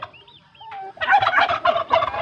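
Domestic turkeys gobble on a rural backyard farm where geese are also kept: a couple of short warbling calls open, then a loud rapid run of gobbles close by, repeating in bursts with no talk.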